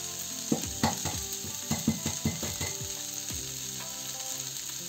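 Fried rice with vegetables and a cracked egg being stirred in a hot pan: a steady sizzle under repeated scraping, clacking strokes of a utensil against the pan, close and fairly loud, with no talking.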